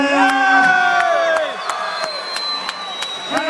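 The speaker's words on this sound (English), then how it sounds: "Once a big round of applause for Drew and Brad" Crowd at an amateur fight night in Mackay cheering, whooping and applauding after a bout decision, a loud burst of voices with sharp claps that eases off slightly over a few seconds.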